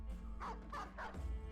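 A war dog barks during a Battle Brothers battle, a few faint yelping barks in quick succession over a low game rumble.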